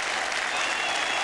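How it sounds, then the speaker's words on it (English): Steady, dense applause from a cricket crowd and England players at a Test match against Australia as a batsman reaches his hundred, loud and continuous with no break. "The England players come out to applaud"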